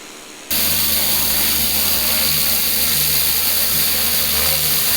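After a brief quiet start, a pressure washer cleaning moss and dirt from patio block paving kicks in with a loud, steady hissing spray over a constant motor drone.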